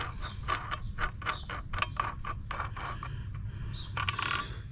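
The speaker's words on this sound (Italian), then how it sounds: "andiamo a invitare il bullone sempre in senso antiorario" Ratcheting metal clicks come as a bolt is tightened on a Parkside brush cutter from Lidl, a series of short close mechanical ticks with irregular spacing and a low hum underneath.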